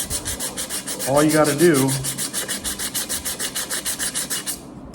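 Scrubbing a grease burn off an aluminum pot gives a steady, rhythmic back-and-forth rubbing, close and fairly loud, with someone speaking briefly over the first strokes.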